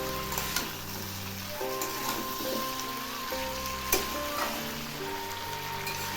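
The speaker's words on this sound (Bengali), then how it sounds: "এখন আমি এর মধ্যে দিচ্ছি ওই পুঁই শাকের বীজগুলো। এগুলি আবার একটু নেড়ে দিচ্ছি।" Malabar spinach (pui shak) seeds frying in a pan, a continuous close crackling sizzle with occasional spatula scrapes and taps as they are stirred, steady and moderately loud.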